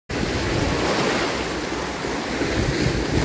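Rough sea waves crash and roll at a beach in El Nido, Palawan, a loud, continuous roar of surf with wind buffeting the microphone and no talking.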